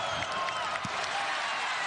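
Basketball arena crowd applauding and cheering during a college game between Kansas and Southern Utah, a dense wash of clapping heard at a distance with a commentator talking over it.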